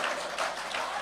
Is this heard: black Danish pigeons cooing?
no